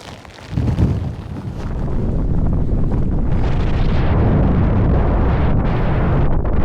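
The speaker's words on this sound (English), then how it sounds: "it got really windy and it was just getting worse and worse the higher that I got" Strong wind roars across a high mountain ridge in Knoydart, Scotland, a loud, constant buffeting rush battering the microphone from start to finish with no speech.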